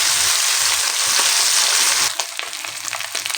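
Pabda fish frying in hot oil in a pan, a loud, steady sizzle throughout that drops a little partway and turns into crackling, popping bursts.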